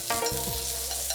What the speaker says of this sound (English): Next, saute the julienned cucumber.